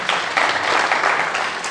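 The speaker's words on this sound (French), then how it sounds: "que je vous demande d'applaudir, bien sûr." Audience clapping at the official launch of the Senegal accountants club, a lively, dense burst of applause from a seated crowd that swells slightly and continues steadily at close range.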